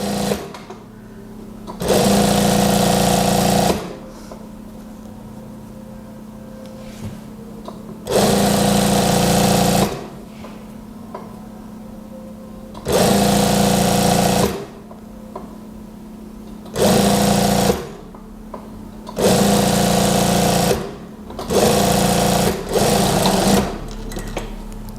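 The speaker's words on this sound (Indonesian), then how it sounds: "Kita jahit ke bawah." A sewing machine stitches a dress side seam in repeated bursts, about eight loud runs of rapid whirring separated by short pauses, close up and with no talking.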